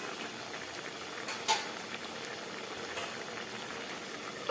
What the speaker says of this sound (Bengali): একদম ফুটে উঠেছে।